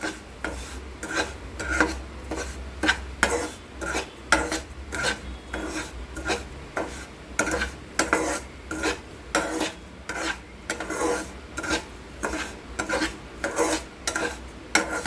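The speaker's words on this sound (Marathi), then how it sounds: "सतत आपलं उलातनं हलवलं पाहिजे नाहीतर मग काय होतं की रवा लागतो आणि मग करपतो" A spatula scrapes and stirs semolina (rava) dry-roasting in a pan for banana sheera, making steady rhythmic rasping strokes, close and clear, with no talking.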